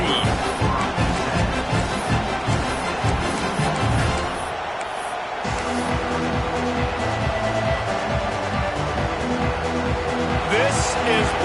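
A stadium crowd at a Tennessee vs Oklahoma college football game keeps up a loud, constant roar with rhythmic chanting, while a commentator talks over it.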